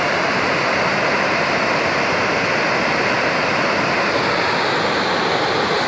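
Knuckles Waterfall roars as a steady, dense rush of falling water, loud and continuous with no pauses or voices.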